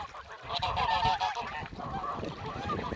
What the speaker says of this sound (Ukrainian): Останні гусенята оті, що самі меншенькі.